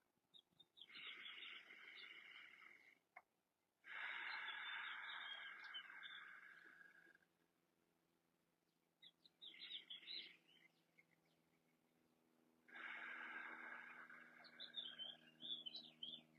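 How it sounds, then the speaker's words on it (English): Birds chirp and sing outdoors in bursts, with clear bright songs and calls coming and going at moderate distance against a quiet background, without speech. "I'm hoping you guys can hear the birds singing in the background."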